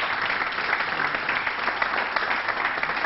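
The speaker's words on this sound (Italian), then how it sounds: "Facciamo un applauso." Studio audience in the stands of an Italian TV show applauding, a steady wash of many hands clapping at moderate loudness, without speech over it.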